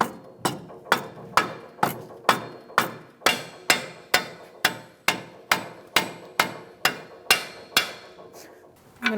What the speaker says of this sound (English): If you need to, you can use a rubber mallet and tap it in.